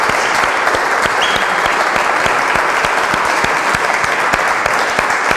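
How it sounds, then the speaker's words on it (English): Steady, dense applause from an audience at a road race event, a continuous wash of many hands clapping at a constant level for several seconds with no speech over it. "So please, a big round of applause for Graham, please."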